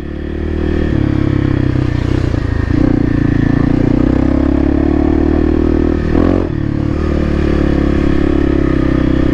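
Off-road motorcycle ridden at Davenport Mountain OHV, the engine droning loud and close with shifts in revs, plus clattering and scraping over rough trail.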